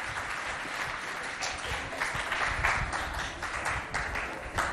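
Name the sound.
audience applause for good answers at a school quiz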